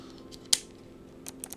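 Mechanical back buttons on a Mojhon Rainbow 3 game controller click sharply, with one crisp click followed by a few lighter taps, all close and isolated in a quiet room.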